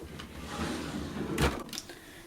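A makeup storage drawer holding lipsticks slides open with a short, close scraping rush, followed by a couple of small clicks and rattles against a quiet indoor background.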